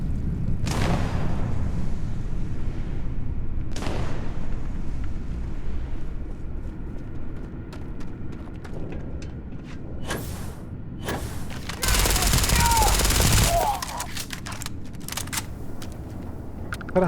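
Weapon fire and booms during jetpack boosting in the sci-fi game Starfield, several heavy thumps and blasts spaced irregularly, with a long roaring burst near the end.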